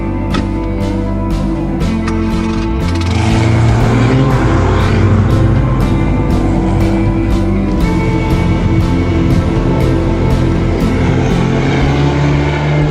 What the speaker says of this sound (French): C'est une voiture qui, sûrement, c'est la voiture la plus mythique du monde, la berlinette.